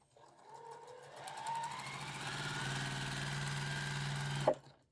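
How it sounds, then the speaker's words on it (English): A sewing machine stitches a line across a quilt block, its steady rapid needle chatter running for about four seconds before stopping with a short click. "So we're going to sew 1 line on each block."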